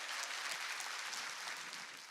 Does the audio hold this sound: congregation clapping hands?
yes